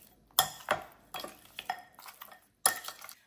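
Half a kilo of bone-in mutton and ribs is stirred with a teaspoon of salt in a pot, producing scattered clinks and scraping knocks of meat and utensil against metal, close and fairly quiet.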